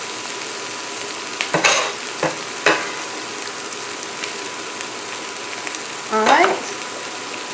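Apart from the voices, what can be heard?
onions frying with peppers in a pan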